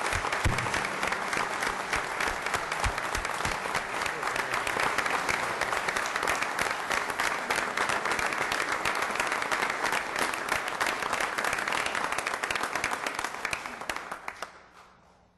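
A council meeting room erupts in sustained applause after a swearing-in, many hands clapping in a dense, steady roar for about fourteen seconds before tapering off at the close.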